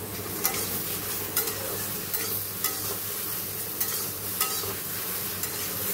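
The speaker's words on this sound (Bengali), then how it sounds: "আর এই বেগুনটা ভাজছি" Eggplant frying in oil in a home kitchen pan, a steady close sizzle with light scraping stirs recurring about once a second.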